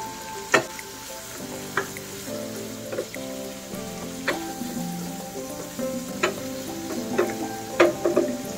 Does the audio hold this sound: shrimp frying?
yes